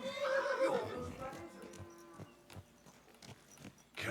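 A horse in Kingdom Come: Deliverance II whinnies loudly at the start, the neigh falling away into soft hoof clops and light footstep knocks, with someone speaking quietly over the scene.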